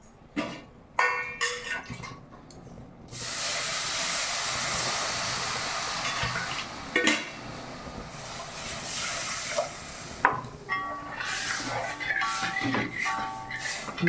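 Hot water poured into spices frying in oil for a Kerala Brahmin sadya sambar, giving a loud steady hiss and steamy sizzle that runs most of the way through, with clatters of pots near the start.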